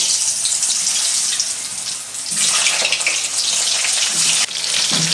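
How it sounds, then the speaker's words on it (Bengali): Potato pieces frying in hot oil, a loud steady hiss and sizzle that swells as more potato is added, with faint clinks from a utensil and no talk. "এটা হচ্ছে আলুটা এখন গরম তেলের মধ্যে আমি ভেজে নেব"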